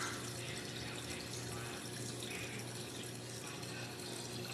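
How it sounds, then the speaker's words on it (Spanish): Water streams steadily into a pot to cover fruit peels in a home kitchen, a continuous soft, splashy pour held at an even level throughout with no talking. "Hasta que se cubren las cáscaras es que le echo el agua."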